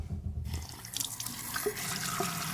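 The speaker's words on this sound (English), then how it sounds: "go back under here, turn your water on, and then come back up" Water runs steadily from a repaired Delta faucet into a sink, a close, continuous rushing splash with faint drips, heard alone.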